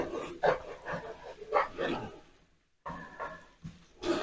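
A small puppy gives soft, high whimpers and short yips in an uneven series, close by at floor level in a kitchen, with a brief pause partway through.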